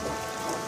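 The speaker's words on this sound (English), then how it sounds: "It was a rainy, muddy day on the island of Sodor." Steady rain with thunder rumbling on the island of Sodor, a dense continuous wash of falling water at moderate level with no voices.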